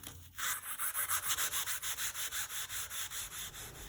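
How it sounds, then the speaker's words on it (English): An abrasive pad scrubbing rust out of the miter slots of a table saw, a steady rhythmic back-and-forth rasp of about a dozen close strokes, with no talk. "take your abrasive pad and clean out your miter saw slots."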